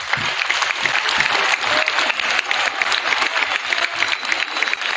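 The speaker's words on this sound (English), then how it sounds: "So let's give our officers a round of applause." An audience claps for police officers at a town hall, sustained dense applause from a crowd filling the room at steady loudness throughout.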